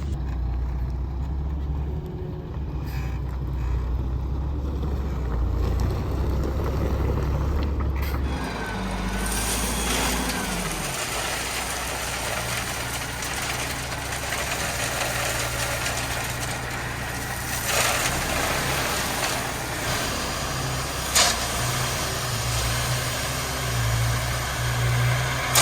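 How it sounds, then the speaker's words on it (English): A dump truck drives back up toward a farm, its engine a low, steady rumble at middle distance with a few mechanical clanks and rattles over it, shifting in pitch as it nears. "I can hear the dump truck coming back up."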